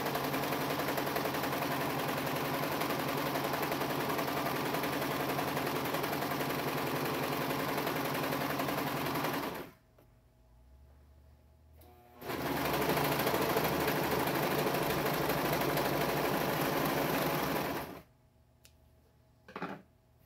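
A serger sewing machine stitches clothes in two long, loud, close runs of rapid, even mechanical chatter, separated by a brief quiet pause and followed by a short burst near the end.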